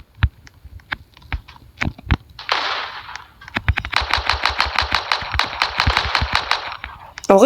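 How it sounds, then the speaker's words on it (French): Gunfire in a Fortnite knockoff shooter: sharp single shots early on, then a sustained rapid burst of automatic fire, loud and close, with a brief noisy blast in between. "En vrai, elles sont plutôt satisfaisantes à tirer les armes."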